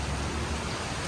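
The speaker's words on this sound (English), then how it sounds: "Yeah, it's raining." Steady rain falls outdoors in a humid, jungle-like setting, a constant close hiss of drops with no break and no voices.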